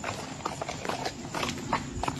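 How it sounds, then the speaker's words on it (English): Horse hooves clatter against the ground on a street at night, a steady clip-clop rhythm of repeated hoof strikes that sounds close and fairly loud. "the sudden sounds of horse hooves clattering against the ground appears right near him and getting closer."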